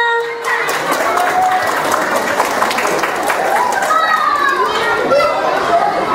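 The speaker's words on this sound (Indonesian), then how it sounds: "Tepuk tangannya mana?" Clapping from an audience at an Isra Mi'raj celebration night, as a youth quiz winner is called forward. It is loud and continuous, mixed with excited children's shouts, high calls and crowd chatter.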